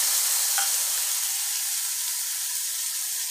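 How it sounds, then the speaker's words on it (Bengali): Ground tomato added to a sizzling spice paste in a pan for a taro dum curry, a continuous bright frying hiss that starts loud and eases slightly, with a brief clink early on. "এই টমেটোটাকে আমি বেটে ফ্রেশ করে রেখেছিলাম, এই টমেটোটা দিয়ে দিলাম"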